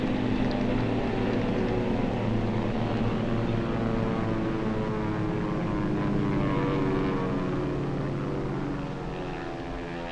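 Propeller-driven World War II aircraft drone steadily overhead, a dense, continuous engine roar that holds loud for most of the stretch and eases slightly near the end, with no talk.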